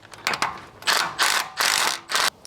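A ratchet wrench undoing 14mm front tail shaft bolts on an 80 Series Patrol diff, with five loud, close bursts of rapid clicking separated by short pauses.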